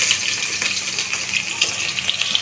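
Onions hit hot oil in a pan with cardamom, cloves, black pepper and cumin, giving a loud, steady hissing sizzle with crackling bursts, close up and without talk.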